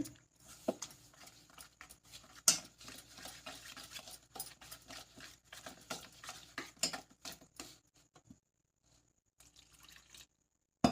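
A spoon stirs rava dosa batter in a bowl while small amounts of water are added, giving irregular wet slaps and clinks with a brief quiet pause before stirring resumes.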